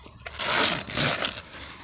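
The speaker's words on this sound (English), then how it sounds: "zipper" A zipper is pulled up a British Army Yeti boot gaiter in one close, rasping stroke lasting about a second, with no talking.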